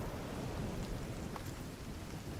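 Rain falls in a video game as a steady, soft hiss with low rumbling underneath, even and continuous with no voices.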